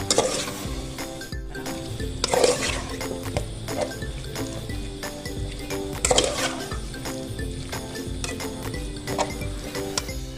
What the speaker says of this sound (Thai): ใส่หมูลงไปนะครับ เอาไปรวนให้สุกนะครับ